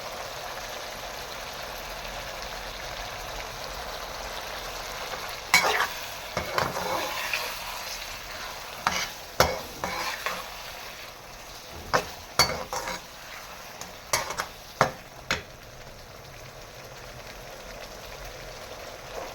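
Kachnar buds fry in a spiced masala, giving a steady low sizzle, then a spoon stirs them in a run of irregular scraping clatters before the sound settles back to a quiet sizzle.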